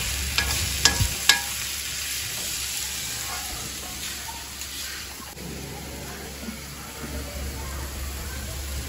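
Steady sizzling and hissing of onions frying in a pan for a shark puttu seafood dish, with a few clattering stirs at the start, close up and continuous.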